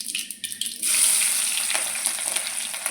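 Green chilies drop into hot oil for a South Indian jawli kai palya curry, a quiet stir giving way to a sudden, bright, steady sizzle that carries on close by.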